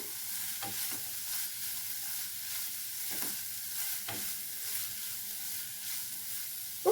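Chopped vegetables for a veg momos filling fry and are stirred in a pan, with a steady close sizzle and occasional scraping stir strokes throughout, and no talking.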